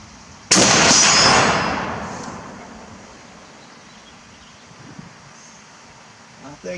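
A single sharp rifle shot from an M1917 Eddystone fired down range outdoors, a loud crack that rings out and decays slowly over a couple of seconds into quiet wind and faint rustling.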